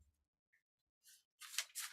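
Tarot cards are shuffled in a few quick, soft riffling bursts near the end, faint and close, after a near-silent start.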